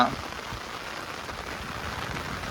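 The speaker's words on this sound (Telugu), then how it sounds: "అసలు ఎలా పడుతుందో చూడండి వాన" Heavy rain falls near the Swarnamukhi river in a constant, dense patter, steady and close from start to finish.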